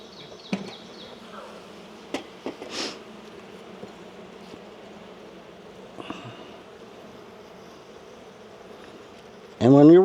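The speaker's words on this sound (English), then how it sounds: "Let's see if I can smoke these bees down a little bit." Honey bees buzz in a low continuous drone around a hive at a remote apiary while a beekeeper smokes and works the colonies, adding boxes, with scattered clicks and bumps and a loud burst near the end.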